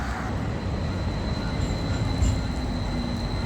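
The Milwaukee HOP streetcar running along its track, a steady rumbling roll with faint wheel hiss and a thin high tone, continuous and fairly close, no voices.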